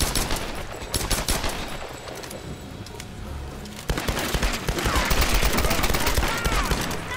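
Tomb Raider (2013) multiplayer team deathmatch gunfire, with a grenade launcher shot among rapid bursts of automatic fire that stay steady and then grow louder and denser toward the end.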